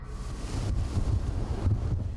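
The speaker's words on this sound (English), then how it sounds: "During periods of strong winds and high water, wind-driven waves can scour and erode a levee or embankment." Wind-driven waves wash against an earthen levee during strong wind and high water, heard as a steady rough rush with low surging swells under constant wind buffeting on the microphone.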